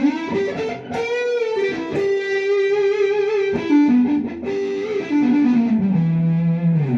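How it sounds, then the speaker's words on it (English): Electric guitar on its neck-position lipstick pickup played through distortion, with sustained, singing single-note lines and bends ringing out loud and close, alone without talk. "in the neck position, you got your lipstick pickup, which, you know, and with the distortion"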